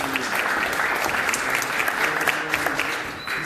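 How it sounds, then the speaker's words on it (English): Sustained audience applause at a town hall forum at a community college in Philadelphia, a dense steady wash of many hands clapping at moderate volume for the whole stretch. "can you give yourselves a round of applause?"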